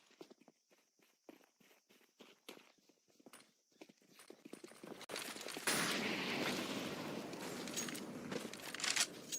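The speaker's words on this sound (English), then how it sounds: "Lots of nades being exchanged towards mid as per." Grenades and gunfire in a Counter-Strike match: sharp rapid clicks and pops at first, then dense rumbling blasts and crackling fire swelling loud toward the end.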